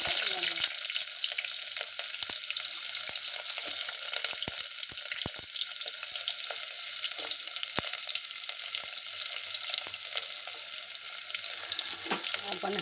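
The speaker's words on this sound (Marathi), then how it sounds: "हा कांदा लाल होईपर्यंत परतून घेणार आहोत" Onion frying in a pan for soya chunks biryani, a constant dense sizzle with occasional sharp clicks of stirring, close and loud throughout.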